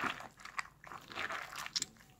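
A knife cutting and carving a pumpkin outdoors gives crunchy, scraping bursts with a few sharp cracks near the end, close and fairly faint, with no talking.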